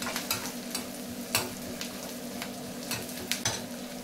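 Onions sautéing in a pan with cinnamon and cloves, a steady soft sizzle broken by occasional stirring scrapes and clinks, close and fairly quiet with no voices.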